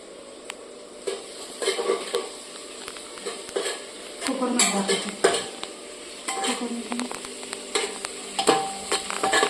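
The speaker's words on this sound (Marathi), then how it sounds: "मस्त आपण त्याला लाल भाजून घेऊया" Onion frying in a pan for biryani, a steady oily sizzle stirred with a utensil that clinks and scrapes against the metal, the stirring coming in uneven bursts over a continuous hiss.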